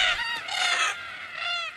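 Cockatoos call at an Australian watering hole in the evening, loud harsh honking squawks overlapping in a dense, boisterous chorus close by.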